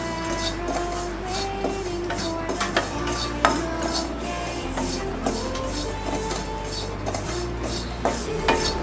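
Grated coconut is stirred and roasted in a pan with coriander for panjiri, giving repeated scraping and rubbing strokes of a spoon against the pan along with small clinks, close up and steady throughout.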